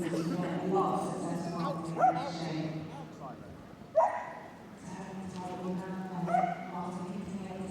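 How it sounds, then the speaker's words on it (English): A dog barks a few times at a distance amid a noisy indoor crowd at the Crufts agility competition, with an announcer talking over it. "Tail wagging, barking away, Graham."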